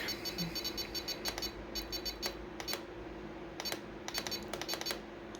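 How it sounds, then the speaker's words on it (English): A series of short, sharp electronic beeps from an RC transmitter, some single and some in quick clusters, over a steady low hum. "Let's just do all the beeps and then we'll talk."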